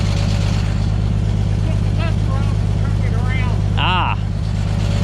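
A truck engine runs steadily with a low, throbbing exhaust rumble that stays loud and close throughout, while people talk over it.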